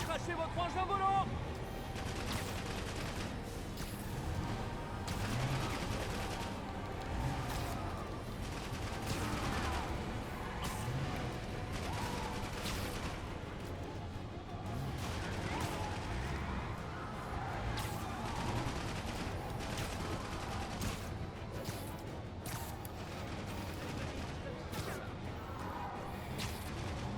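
Gunfire from Sable's forces in the video game Marvel's Spider-Man, dense bursts of shots and crashes with whooshes running continuously under a game soundtrack and occasional voices.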